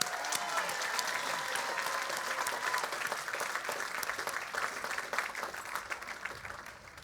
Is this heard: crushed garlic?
no